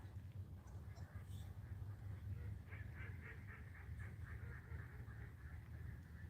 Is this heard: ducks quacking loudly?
yes